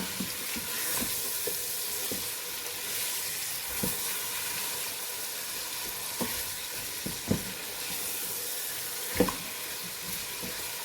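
Spices and chicken roasting in a pan for chicken nehari, a steady broad sizzle and frying hiss with occasional clinks and scrapes of a spoon stirring, no voices.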